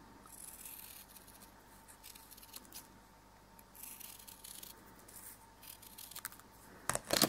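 Scissors cutting along floral tape for a wired sugar lily, quiet close snipping and slight scraping in a calm room, ending with a couple of sharper clicks.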